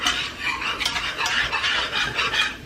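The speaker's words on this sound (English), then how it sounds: "we've gotten our next batch of flour in, and we're going to whisk that in as well" A whisk beats flour into meatball pan drippings for Swedish meatballs, with quick rhythmic scraping strokes against the pan, close and fairly loud.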